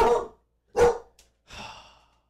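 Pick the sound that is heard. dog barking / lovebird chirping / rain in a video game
dog barking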